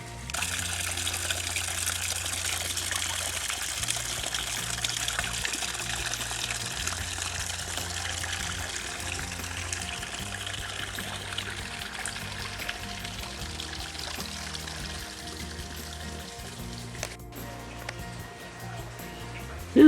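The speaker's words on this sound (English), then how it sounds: "This is the Brazos River." Brazos River water rushing and gushing continuously beside a ranch lodge, a steady broad wash of sound for about twenty seconds with no voices over it.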